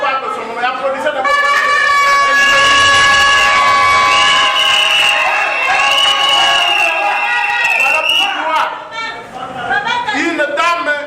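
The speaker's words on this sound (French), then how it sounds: "Applaudissez d'abord." A crowd cheers and applauds at a public gathering, loud and sustained for around eleven seconds, with strong drawn-out tonal shouts or horn-like notes over the noise and voices mixed in.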